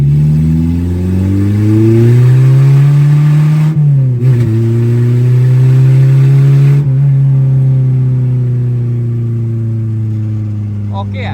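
A Suzuki Khyber fitted with a B18C engine runs loud and close, its engine note rising and falling through repeated revs, with people talking over it.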